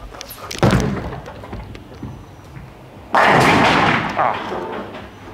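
A Roto Grip Tour Dynam-X bowling ball strikes the pins with a loud, sustained crashing clatter a few seconds in, following a duller thud earlier, heard alone without talk.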